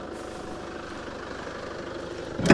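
A Chevrolet Captiva 2.2 diesel idles under the open hood with a low, even, rhythmic engine chatter, moderately near and steady, before a brief louder knock at the end.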